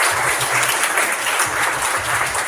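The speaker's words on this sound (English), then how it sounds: "Give a round of applause for that." An audience at a pitching session event claps steadily, a dense and even wash of applause throughout the short clip with no voices over it.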